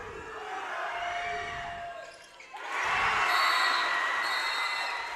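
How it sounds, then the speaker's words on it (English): Basketball fans in a high school tournament gym, Primero Bulldog supporters on one side, cheer and shout in swelling crowd roars that dip briefly midway, then surge louder with whistles and voices ringing through the hall. "all the Primero Bulldog fans on the south side of the gym, and they're both just trading the cheering"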